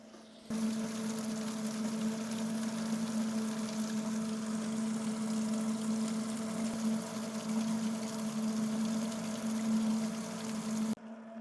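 An outdoor wood boiler, a Central Boiler Classic Edge 550, is being filled by a pump, giving a steady motor hum with a strong low drone and running water that starts abruptly and stops near the end.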